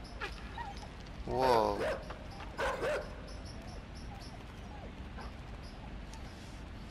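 A dog in the video game Inside barks twice in quick succession, moderately loud over a quiet game ambience, then the scene settles with faint background talk.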